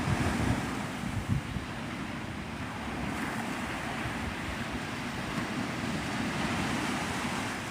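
Ocean surf rolls in steadily at Navarre Beach, Florida, at sunrise, a continuous close wash of breaking waves mixed with wind rumble on the microphone and no voices.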